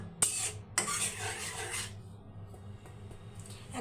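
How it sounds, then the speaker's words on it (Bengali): Spice paste is stirred and fried in a pan for a Bengali fish and vegetable curry with rohu and eggplant. Two sharp scrapes of a spoon are followed by a sizzling rasp that fades into quieter scraping. "এখন আমি এই মশলাটাকে একটু ভালো করে কষিয়ে নেব"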